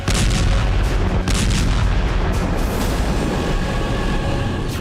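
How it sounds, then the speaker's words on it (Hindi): A drone explosion attack hits a Russian power station in Ryazan, a loud sustained roaring rumble with booming blasts and crackling at the start, no voices. "यूक्रेन ने रियाजान और रोस्तोव में एक बार फिर से ड्रोन विस्फोट किया।"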